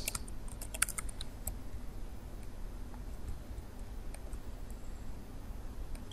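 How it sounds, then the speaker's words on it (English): Steady typing on a computer keyboard, a quiet run of close key clicks with a few sharper taps near the start over low background hiss. "I'm going to type in the text"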